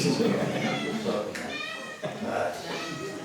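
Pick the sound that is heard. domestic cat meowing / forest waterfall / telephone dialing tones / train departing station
domestic cat meowing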